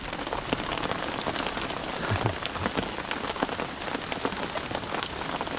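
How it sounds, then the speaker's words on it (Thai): Steady rain falls in a forest, a dense, continuous patter of drops on leaves and ground at an even level throughout, with no voices. "ฝนตก"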